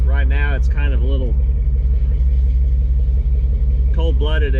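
A 1992 Ford Mustang idles with a loping, uneven rumble, steady and close throughout, while someone talks over it at the start and end.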